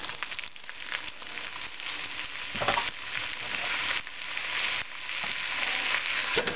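Hamburger meat frying in a pan for cabbage roll soup gives a steady, close sizzle with crackling bursts and occasional scraping as it is stirred and broken up.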